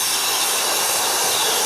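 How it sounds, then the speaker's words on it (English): Steam blasts from the open blowdown cock on a Stuart 501 model boiler, a loud, continuous, rushing hiss that stays steady and dense throughout with no pauses. "I'm just going to open the blowdown cock here"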